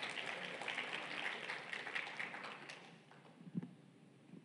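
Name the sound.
congregation applauding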